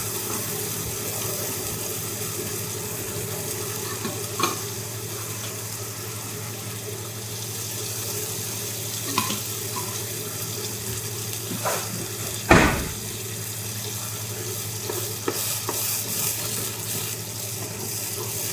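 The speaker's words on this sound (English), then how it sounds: "once you've browned your mince, go in with a couple cloves of garlic, saute that for a couple minutes" Browned mince and garlic saute in a pan with a steady, close hiss and crackle and occasional clatters of a spatula. There is no talk over the sound.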